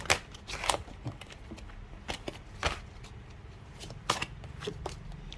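Tarot cards being shuffled by hand, a run of crisp riffling and slapping bursts at an uneven pace, close and fairly quiet, with no talking.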